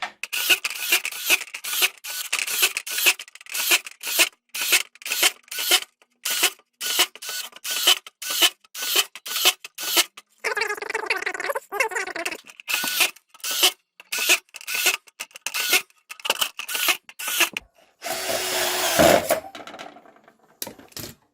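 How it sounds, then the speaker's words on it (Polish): Kaltmann K-WZP18V cordless autofeed screwdriver driving a full strip of screws into drywall, sped up: a rapid, regular series of short whirring bursts separated by brief gaps, broken by one longer grinding stretch and a final louder burst. "spróbuję wystrzelać, że tak powiem, cały magazynek tutaj gdzieś w ten regips"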